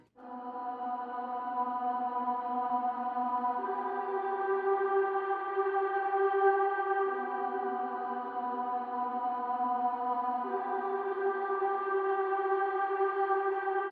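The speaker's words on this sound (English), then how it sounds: "Next I added this kind of like vocal lead." Sustained ambient vocal lead sample in an FL Studio ambient beat, a smooth pad-like voice holding long chord tones that shift pitch every few seconds, steady and moderately loud with light echo, no talk.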